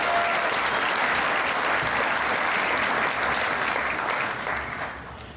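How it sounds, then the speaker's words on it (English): Loud, sustained applause from a large audience at a university commencement dinner, steady clapping throughout that begins to taper off near the end. "give our wonderful hosts, Allyson and Anderson, a big round of applause"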